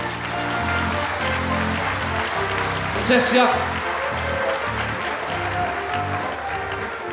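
A circus audience applauds in a steady, dense wash of clapping that swells briefly midway, while someone speaks over it.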